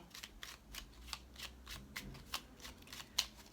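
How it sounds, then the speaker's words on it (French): Tarot cards being shuffled by hand, a series of crisp riffling bursts in a steady rhythm, close and fairly quiet, with no talking. "je vais d'abord battre les cartes"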